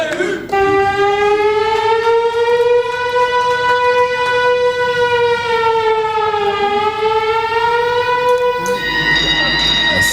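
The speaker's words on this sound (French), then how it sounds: "La sirène retentit pour la seconde fois." A loud siren at a women's professional wrestling match wails in one long sustained tone that dips slightly in pitch partway through before the crowd noise swells at the end.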